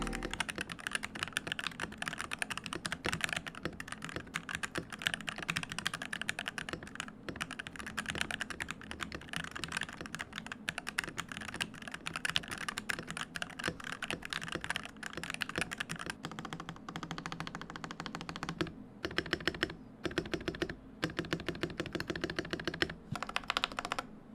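Continuous rapid typing on a mechanical keyboard with stock pre-lubed stabilizers, close and steady, with clacky keystrokes and occasional heavier thocks from the larger keys.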